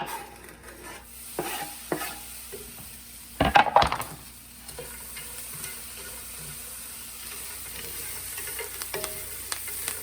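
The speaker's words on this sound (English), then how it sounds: "So we're just gonna scoop it all in there and give it a quick stir." Croutons tossed in a hot pan on the stove, a low sizzle with scraping stirs and a brief burst of clattering metal against the pan midway, then quieter frying; no one speaks.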